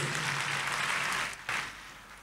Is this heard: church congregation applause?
yes